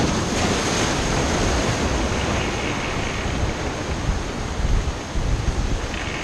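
Ocean waves breaking in white water surf while fishing off the rocks near Sydney, a loud continuous wash of churning water and spray with gusty wind noise, steady throughout.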